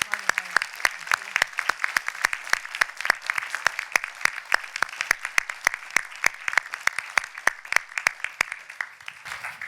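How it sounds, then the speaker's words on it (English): A lecture audience applauds a professor after a talk on Foucault. The claps are distinct and fairly sparse, falling at an even, brisk rhythm for nearly ten seconds, moderately close and without talk. "Can I have one more hand of warm applause for Marli Huijer?"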